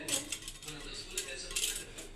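Spoon clinking and scraping inside a cup while stirring coffee at home, a quick run of light metallic taps and swirls, close and fairly quiet, with no voices.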